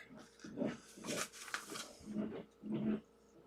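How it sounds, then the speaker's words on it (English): Dogs bark outside in several muffled, gruff bursts, faint and somewhat distant behind a wall. "My dogs are outside going crazy."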